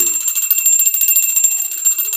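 A small prayer bell rings rapidly and continuously during Ghatasthapana home worship, a bright sustained metallic jingle close by, stopping abruptly at the end.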